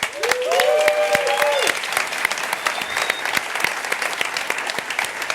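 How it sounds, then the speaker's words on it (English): A large conference audience at Devoxx UK claps in sustained, dense applause, loud and steady throughout, with brief voices and a faint cheer near the start. "big round of applause to Mark Hazel"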